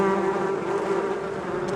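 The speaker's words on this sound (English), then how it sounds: "So we got a little bit of bees here" Honeybees hum steadily from a hive opened in winter to check the colony and add a pollen patty, a close, continuous buzzing drone with no talk over it.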